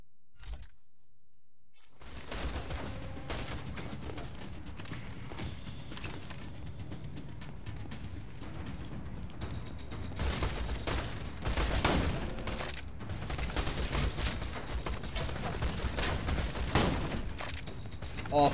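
Coach gun fire in Borderlands 2 comes as repeated loud shotgun blasts and booms over dense game noise, starting after a short silence, with someone talking intermittently.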